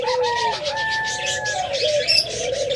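Pigeons cooing in a coop where birds sit on eggs and chicks, with soft, close, overlapping coos and a few brief chirps running throughout.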